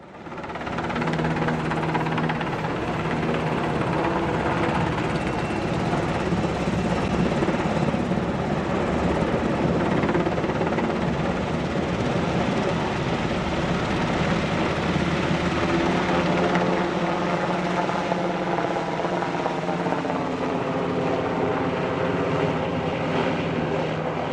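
A helicopter or light aircraft drones steadily overhead above a construction site where concrete footers are being made for a new ski lift, a continuous loud engine and rotor roar that holds for the whole stretch.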